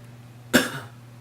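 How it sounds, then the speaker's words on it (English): A patient gives one sharp, close cough during a clinical abdominal exam while the examiner palpates the liver. The cough is brief and stands alone against quiet room hum. "And I want you to cough for me."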